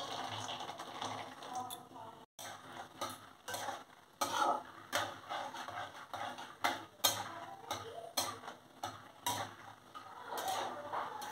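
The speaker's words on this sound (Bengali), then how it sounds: "বাদামগুলো আমার ভাজা হয়ে গেছে, এবার তুলে নিচ্ছি।" Peanuts fry in ghee in a karahi while being stirred, with repeated scraping and clinking strokes of a utensil over a soft sizzle, fairly quiet and close.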